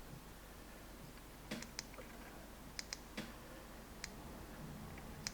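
An Imalent GR35PE flashlight button double-clicked, sharp small clicks in quick pairs and singles scattered over a few seconds, close and crisp above a steady background hiss.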